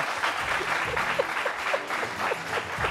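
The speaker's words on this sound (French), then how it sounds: "Et ça s'applaudit." An audience claps in steady, moderate applause on a French talk show, a continuous patter of many hands heard at medium distance, with a bit of faint chatter underneath.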